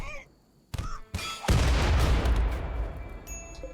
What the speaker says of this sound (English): Oh god, they're frag grenading.